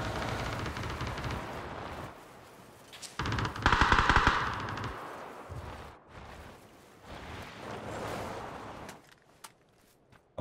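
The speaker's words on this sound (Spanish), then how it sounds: "me están disparando de atrás" Gunfire in the PUBG video game, with rapid automatic bursts and scattered shots that peak in a loud volley midway, then quieter intermittent firing follows.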